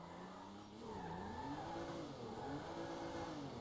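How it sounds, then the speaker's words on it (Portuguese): A car engine revving in GTA V, a sustained rising and falling engine whine with pitch sweeps like acceleration and tire squeal, steady and fairly close, with no talk. "o motor tá acelerado pra caramba"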